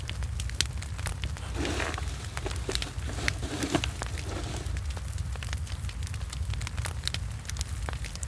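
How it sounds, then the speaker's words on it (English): A campfire crackles steadily beside a river, scattered sharp pops and snaps over a constant low rumble and hiss, close and even throughout with no voices. "blending with the crackling of the fire and the murmuring of the river"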